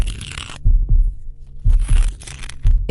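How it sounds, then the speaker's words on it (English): Heartbeat sound effect: deep, loud double thumps pulse in a slow, even rhythm, three beats heard, close and booming under a faint airy background. "could hear his own heart beating"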